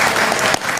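Audience applause breaking out at a political speech, a dense wash of clapping hands filling the short moment and dipping slightly near the end.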